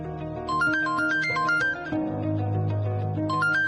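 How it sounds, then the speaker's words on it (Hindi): A mobile phone rings in a room nearby, playing a steady repeating melodic ringtone of bright stepped tones that loops continuously, fairly loud and alone. "ये घंटी की आवाज तो इसी कमरे से आ रही है।"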